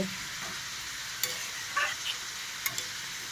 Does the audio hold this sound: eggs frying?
yes